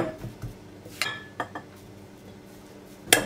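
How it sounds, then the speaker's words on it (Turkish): A spoon presses kısır, a Turkish bulgur salad, into a wetted bowl, producing a few soft muffled taps and light clinks against the dish, spaced irregularly and fairly close. "Kaşıkla bastırıyorum."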